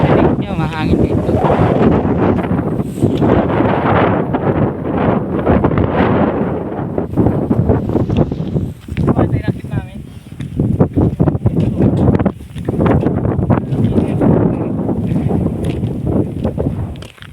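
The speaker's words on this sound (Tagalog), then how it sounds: "Narinig nyo, mahangin dito." Strong wind gusts batter the microphone at an outdoor land-survey site, a loud, rough rumble that swells and eases over the whole stretch, with people talking now and then.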